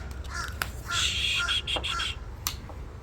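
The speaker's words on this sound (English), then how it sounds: "I'm trying to shush the bird." A pet bird calls indoors with harsh, repeated squawks and caws, loud and close, broken by brief sharp clicks.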